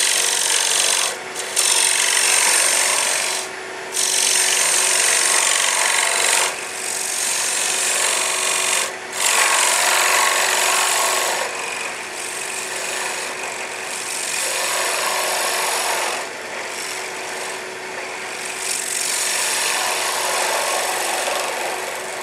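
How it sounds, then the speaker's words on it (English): A small carving gouge cuts an off-center wood medallion, giving repeated rough, rasping strokes with short gaps between bites, close and fairly loud. "This little gouge will cut that larger bite"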